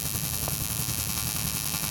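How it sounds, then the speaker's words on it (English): Blue Demon Bluearc STI 200 welder holding an arc on square wave at 250 hertz, a steady harsh buzzing hiss with a constant tonal hum, unbroken and even in level. "This next weld is going to be on square wave again, but at 250 hertz"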